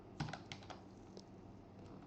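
Keys tapped on a computer keyboard while a username is entered, a quick burst of close, light clicks near the start followed by a few scattered keystrokes.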